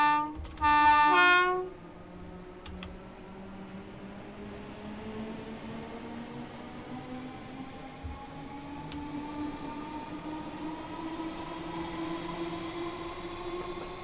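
A Class 313 electric train pulls away on the West Coastway line in Train Simulator Classic. A short horn blast opens, then a rising electric motor whine builds steadily as the train departs, with no voices.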